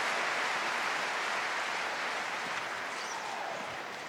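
Crowd applause at a professional table tennis men's doubles match, a steady broadband roar of clapping that holds evenly throughout and fades slightly near the end.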